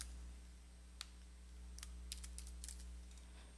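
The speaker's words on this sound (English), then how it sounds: "you could definitely type away" Computer keyboard typed on in a quiet room: a few sparse, faint key clicks followed by a quicker irregular run of soft taps, with no talking.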